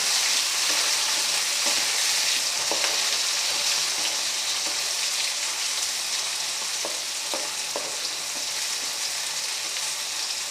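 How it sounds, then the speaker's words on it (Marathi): Tomatoes frying in oil in a pan for a village-style cluster bean curry, making a steady, even sizzle throughout with a few faint stirring clicks and no speech. "टोमॅटो तेलात छान असा भाजू द्यायचा."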